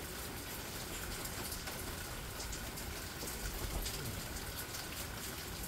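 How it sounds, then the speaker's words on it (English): Heavy rain pours outdoors in New Jersey, a dense, steady wash of noise with no breaks, even and fairly faint, with no other sounds standing out. "See, it's pouring out here in Jersey."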